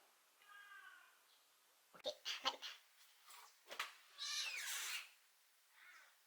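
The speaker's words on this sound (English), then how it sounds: "Sorry about my cat." A cat meows several times in short, uneven cries, close and fairly clear, with a few soft thumps and handling noises in between, in a quiet room.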